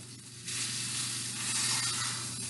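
A pot roast sears in a hot pan, a loud steady sizzle that surges in after a brief quieter moment and then hisses on evenly, close by and with no talk.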